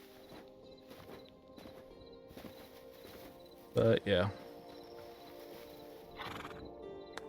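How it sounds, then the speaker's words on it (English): In the game Hytale, a horse lets out two loud, close neighs amid a quiet bed of game ambience and soft hoof clops, while a person talks briefly over it. "Horses."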